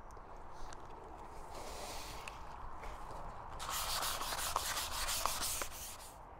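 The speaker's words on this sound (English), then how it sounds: "I'm just going over it with some 400 grit to smooth everything out" Steady wet sanding of fresh paint on a new 2022 Triumph Bobber motorcycle with 400 grit sandpaper, a continuous close rubbing hiss that grows louder and brighter in the second half, with a few light taps.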